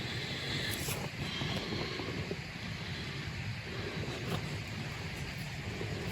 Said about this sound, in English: we can hear a waterfall really close by